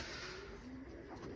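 Pigeons coo softly in a loft where birds sit on eggs, faint low calls over a quiet, steady background.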